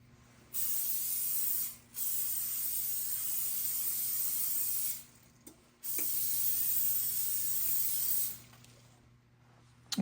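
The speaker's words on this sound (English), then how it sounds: "we're going to pre-grease our pans with vegetable oil non-stick cooking spray." Vegetable oil non-stick cooking spray hisses onto cake pans in three long, steady bursts, each lasting a few seconds and separated by short pauses, close and clear with no talking.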